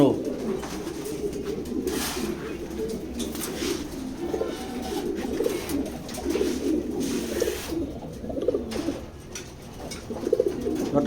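Pigeons coo in a loft, overlapping soft throaty calls repeating close by in a continuous chorus, with faint rustling and chirps mixed in.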